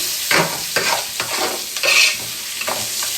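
Onions cooking with rock salt in a pan, a loud continuous sizzle broken by repeated scraping stirs at an uneven rhythm, close up with no talking.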